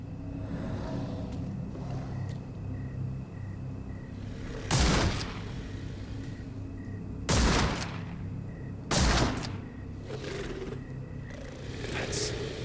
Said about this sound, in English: I can shoot the ropes holding a few of those poor souls.